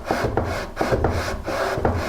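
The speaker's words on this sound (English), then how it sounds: "take a piece of sandpaper, put it underneath that leg, and just kind of move the stool back and forth over the sandpaper" A wooden cherry step stool leg is rubbed back and forth over sandpaper, making a loud, close rasping scrape in about five even strokes with short pauses between them.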